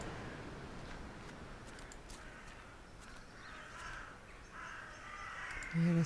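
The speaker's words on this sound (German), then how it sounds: "Ja, das sind Krähen." Crows cawing in the point-and-click horror game The Last Door, several harsh calls spaced across the moment, moderately faint against a hushed ambient background, with a brief tonal sound right at the end.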